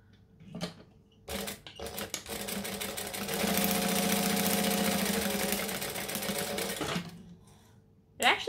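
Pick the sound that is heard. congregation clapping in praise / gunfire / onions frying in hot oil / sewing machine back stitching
sewing machine back stitching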